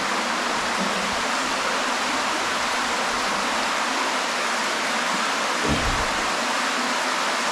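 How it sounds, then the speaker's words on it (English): Raging rapids rushing through Deadhorse Cave, a loud steady broadband roar of churning water that fills the space without pause, with one brief low thump midway. "Wow, there's some raging rapids here."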